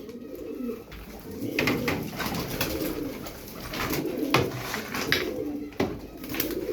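Fancy pigeons coo in low, soft murmurs, several birds overlapping continuously at close range with faint rustling and a few sharper clicks.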